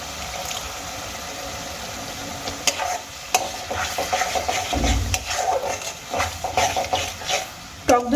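Whisked yogurt going into sizzling spice masala in a pan on a low flame, a steady close sizzle with scraping and stirring clatter building toward the end.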